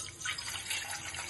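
Water is poured from a glass into a pot set on the stove for making jowar roti dough, a short close splashing trickle heard alone at low level.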